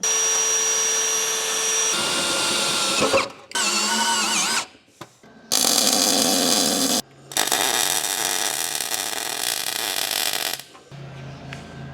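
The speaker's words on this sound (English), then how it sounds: "So I'm going to pre-drill this so I can drill it with a star bit." A power drill pre-drills a hole for a star bit while working on a Patrol, running in several loud, close whirring bursts separated by short pauses.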